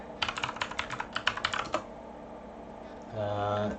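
Rapid bursts of keystrokes on a computer keyboard, typed close by in quick clusters for under two seconds, then a pause before a faint electronic hum rises at the end.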